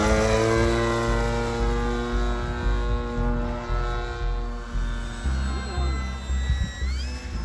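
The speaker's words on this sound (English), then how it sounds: "This is Darren flying the Ripmax Bolero, which is a nitro model." Ripmax Bolero nitro model airplane engine flying at a model flying site, a steady buzzing drone that rises and falls in pitch as the aircraft passes, moderately loud and continuous with no talking.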